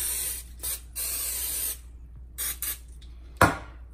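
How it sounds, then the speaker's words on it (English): Several short hissing bursts from a cooking spray can, coating salmon skin close up, followed by a sharp knock near the end. "give it a little coat of cooking spray on the skin"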